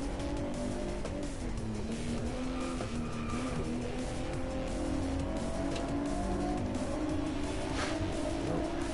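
A car slides through a drift corner in Driveclub VR, steady engine roar under long tire squeal and skidding, close and loud throughout, with no talk.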